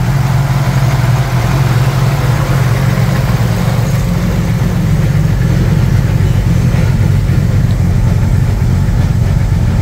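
A Holden CV6 Monaro engine idles steadily and loudly close by, with a smooth, continuous low rumble and no other sounds.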